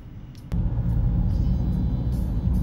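A red city bus rumbling through Belgrade traffic, a loud steady engine drone and road roar that jumps up abruptly and holds close by, with faint higher whirs over the top.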